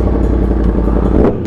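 Yamaha R1M motorcycle engine revving near the microphone, a loud steady roar with a brief throttle blip toward the end.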